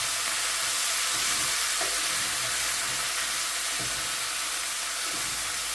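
Hot oil sizzles loudly and continuously in a pan for steak with New Mexico red chile, a steady dense hiss with a few faint clinks beneath it.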